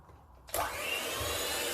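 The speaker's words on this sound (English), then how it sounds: "And it helps if you don't have your whisk on too high as well, so that stops the icing sugar from going everywhere." An electric hand mixer with whisk attachments switches on while beating buttercream frosting with icing sugar, a sudden steady whirring that starts after a moment of quiet and keeps running evenly.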